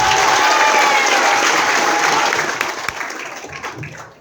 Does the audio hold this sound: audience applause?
yes